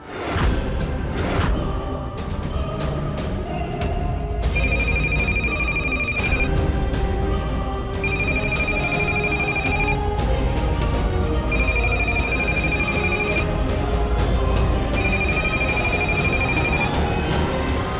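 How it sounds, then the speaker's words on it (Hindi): A telephone rings repeatedly in regular bursts with pauses between, over a background of music-like tones; no one picks up. "जब फोन लगता है तो फोन उठा नहीं रही है वो।"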